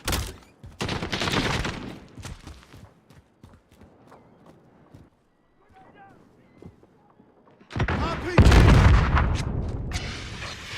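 Gunfire in an online shooter video game comes in loud, dense bursts, with heavy volleys and booming impacts at the start and end and quieter scattered shots in between.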